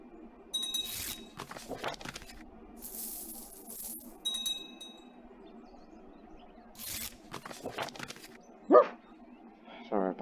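A voice imitates a barking dog in several sharp, loud bursts scattered among stretches of ordinary speech.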